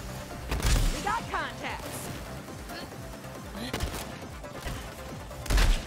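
Enemy gunfire in a video game: bursts of shots and impact crashes come through, with loud hits near the start and the end and busier firing in between. Players talk over the action.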